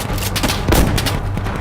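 Dense, continuous automatic gunfire from an AK variant rifle in the Insurgency Sandstorm video game trailer, rattling steadily throughout with a heavier burst near the middle and no voices.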